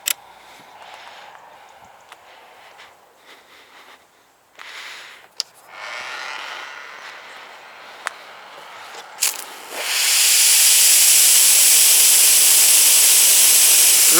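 A Ryobi cordless pressure washer fitted with a 2.5 nozzle bursts into a loud, steady spray hiss partway through, following quieter handling and clicking sounds, and keeps spraying to the end.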